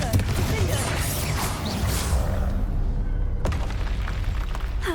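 A Confringo fire spell explodes in the video game Hogwarts Legacy amid dense combat noise, a continuous loud wash of blasts and crashes with one sharp impact near the end.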